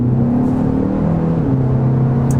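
A 2025 Hyundai Elantra N-Line accelerates hard in a straight line, its engine droning steadily and loudly from inside the cabin, with the pitch shifting as it pulls through the gears.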